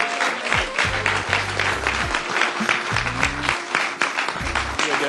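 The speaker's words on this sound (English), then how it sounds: "Ladies and gentlemen, please clap your hands" An awards-ceremony audience in Springfield, MA claps loudly and steadily for a drummer, with bursts of cheering on top and faint voices underneath.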